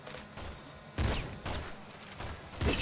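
Shotgun blasts in the video game Nuclear Throne: three short, punchy bursts spaced about a second apart over a low background hum.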